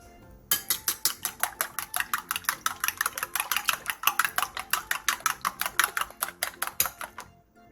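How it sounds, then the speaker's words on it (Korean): Two eggs with salt and minced garlic beaten in a bowl: a fast, even run of sharp clicks and taps of the utensil against the bowl, close and steady for several seconds before stopping. "볼에 계란 2개, 소금 3분의 1 티스푼, 다진 마늘 2분의 1 티스푼을 넣고 골고루 섞어주세요"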